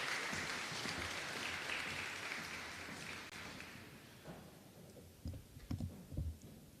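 Audience applause at a student recognition ceremony, a steady dense clapping that fades after about four seconds, leaving a few scattered louder claps toward the end.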